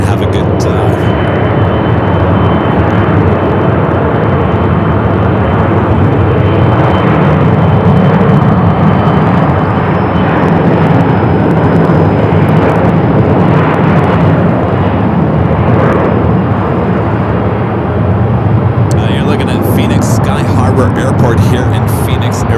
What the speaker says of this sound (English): This is the Delta 757-300 heading to Minneapolis.